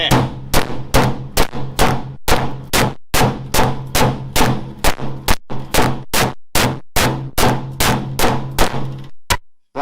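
A hammer pounds a lifted steel floor pan down on a swap-meet hauler truck build. About twenty loud, sharp metallic blows come in a steady, rapid rhythm, close by and with no talk over them.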